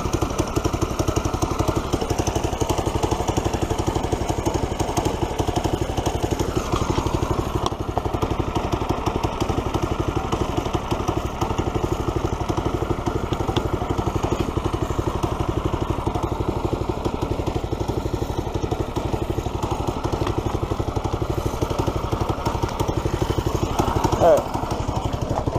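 A go-kart engine runs steadily and close by, a loud, rough mechanical drone that holds without a break for the whole stretch, with faint voices in the background.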